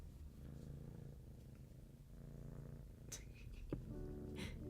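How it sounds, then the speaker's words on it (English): A house cat purring close by, a steady low rumbling pulse that runs throughout, with a few faint clicks and small noises near the end. "enjoy some cat purr"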